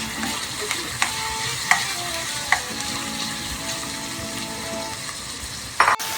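Olives tipped into a pan of puttanesca sauce and stirred, with a steady close sizzle of frying under scattered sharp clinks and scrapes of a utensil against the pan, and a louder clatter near the end.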